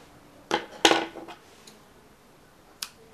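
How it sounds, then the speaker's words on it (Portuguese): Scissors snipping yarn close to the edge while making amigurumi eyes: a couple of sharp metallic cuts close together, then one faint snip a moment later in a quiet room. "E aí eu vou pegar a tesoura."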